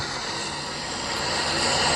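Airplane engine in the PUBG Mobile video game, a loud, steady droning roar heard from on board the aircraft, holding constant without pause.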